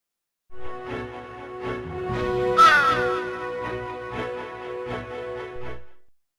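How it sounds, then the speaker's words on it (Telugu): Cartoon sound effect of a pair of crows cawing in a children's animated story, loud harsh repeated caws that overlap in a dense run, standing alone without speech. "ఇప్పుడు కాకుల జంట దాడి చేశాయి."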